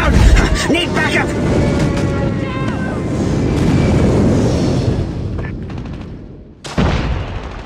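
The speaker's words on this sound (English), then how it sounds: "Friendly airstrike incoming." Friendly airstrike in Call of Duty, with booming explosions and gunfire rolling continuously, dipping briefly, then a fresh loud blast near the end, while a voice speaks over the chaos.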